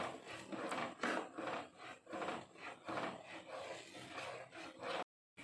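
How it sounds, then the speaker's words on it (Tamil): Gram flour stirred into hot sugar syrup for ghee Mysore pak, a steady scraping and rubbing of a spoon against the pan in repeated strokes, close and continuous with no talking. "கடலை மாவு ஆட் பண்ணதுக்கப்புறம் கை எடுக்காமல் நல்லா மிக்ஸ் பண்ணிகிட்டே இருக்கலாம்."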